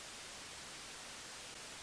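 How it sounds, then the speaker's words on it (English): Steady hiss of white noise passed through a high-cutoff audio filter, quiet and even for about two seconds, with no talk. "I'm going to turn on some noise here."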